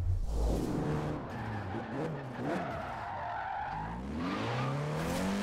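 A VW Golf in the Forza Horizon 4 racing game, skidding with long squealing tyre slides under a revving engine that rises and falls in pitch. The car sounds close and loud, with no voices.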